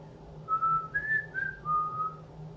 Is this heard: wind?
no